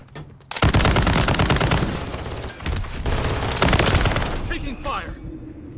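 Gunfire in a shooter video game, a sustained, loud burst of rapid automatic shots lasting several seconds with a short pause midway, tailing off as a voice speaks underneath.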